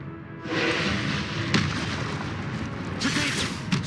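Rapid spell blasts from combat in Hogwarts Legacy, a dense series of booming bursts and sharp cracks layered over continuous battle noise, loud and close.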